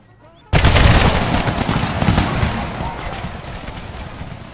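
A Confederate infantry volley from a Civil War strategy game erupts suddenly after near silence, a loud, dense burst of overlapping musket fire that keeps crackling and slowly tapers over several seconds.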